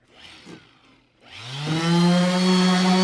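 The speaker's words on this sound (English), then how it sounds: "We are now sanding all of these panels." A power sander whirs up to a steady, loud high-pitched drone on wood panels after a brief quieter stretch of shop noise.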